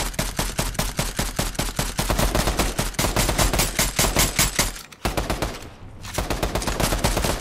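Rapid bursts of gunfire from the video game Fortnite fill the whole stretch, loud and close, with dense repeated shots and a brief dip in the firing near the end.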